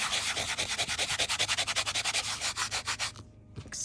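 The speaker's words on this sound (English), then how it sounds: "I'm using my sanding block in circles" Rhythmic rasping of a small sanding block rubbed quickly in circles on a metal-tape surface, close up, with fairly even strokes before a brief pause.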